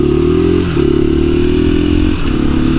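A KTM 500 EXC-F dirt bike engine runs loud and close, holding a steady, throbbing rev with two brief dips in pitch as the throttle eases and picks back up, with no voices.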